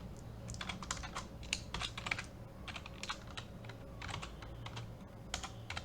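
Quick bursts of keystrokes as Python code is typed on a computer keyboard, irregular clusters of crisp clicks with short pauses, close and moderately quiet over a low hum.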